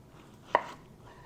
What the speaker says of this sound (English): And all we're going to do is chop them up.